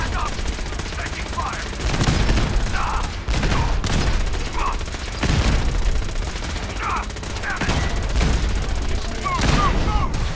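A Fallout 4 firefight at Bunker Hill: bursts of gunfire and explosive grenade blasts crackle in repeated volleys across ten seconds, loud and close, with no voices.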